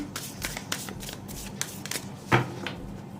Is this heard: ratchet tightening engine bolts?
no